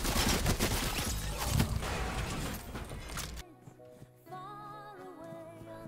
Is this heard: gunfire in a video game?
yes